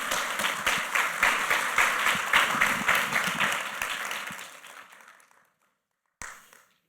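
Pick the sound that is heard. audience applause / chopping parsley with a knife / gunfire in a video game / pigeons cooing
audience applause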